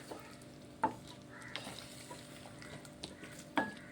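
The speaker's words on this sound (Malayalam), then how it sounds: "ഇനി നമുക്ക് നല്ലപോലെ ഒന്ന് ഇളക്കിയിട്ട് നമുക്ക് ഈ പൈനാപ്പിൾ നല്ലപോലെ ഒന്ന് വേകണം." Pineapple cooking with turmeric in a pan for a sweet curry, stirred with a spoon in soft, scattered scrapes and a few sharper knocks over a faint sizzle.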